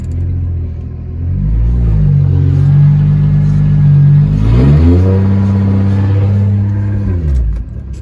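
Big-turbo Lexus GS300 pulling away in first gear, the engine note climbing steadily and loud, briefly dipping around midway as revs shift, then rising again before easing off at the end; no voices.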